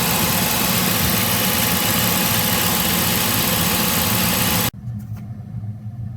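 A 2007 Dodge Magnum R/T with a 5.7L engine idles loud and close with a steady rumble after its tensioner and idler pulleys were replaced, then cuts off abruptly near the end, leaving faint low hum.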